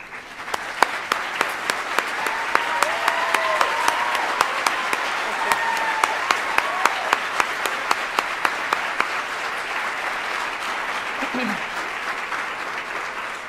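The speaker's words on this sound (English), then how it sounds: "give you a heartfelt round of applause and sincere thanks" An audience at a nurse pinning ceremony gives a sustained round of applause honouring servicemen and women, dense steady clapping that fills the hall, with a few voices audible underneath.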